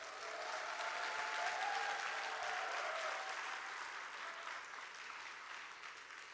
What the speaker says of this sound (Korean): 이런 말 했다고 박수도 쳐주고